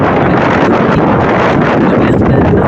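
Strong wind blows outdoors, buffeting the microphone in a loud, steady rush of noise over a few seconds.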